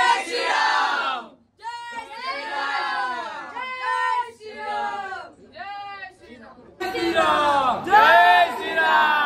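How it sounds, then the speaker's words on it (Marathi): A village crowd in a Ram procession for the Ayodhya Ram temple consecration, voices chanting and cheering in loud rhythmic bursts, with louder massed shouting near the end. "फुल जल्लोष करण्यात येत आहे"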